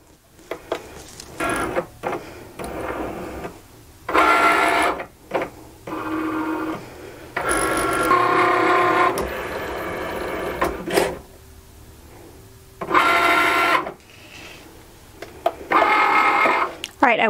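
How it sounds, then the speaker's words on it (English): A Cricut Maker with a fine point blade cuts designs into medium cardstock, giving bursts of mechanical whirring and buzzing motor runs separated by short pauses and clicks, close and fairly loud, with no talking. "So let's head to the Cricut and cut our designs."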